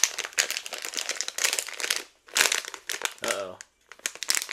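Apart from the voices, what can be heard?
opening Loot Crate box packaging, crinkling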